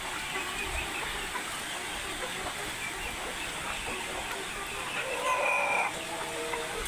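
Chickens on a poultry farm in intense heat are sprayed with water, with clucking and a crow over a steady hiss of spray.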